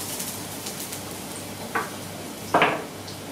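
Garlic frying in olive oil for tuna spaghetti gives a steady, even sizzle close by, broken by two short metallic clinks, with no talking.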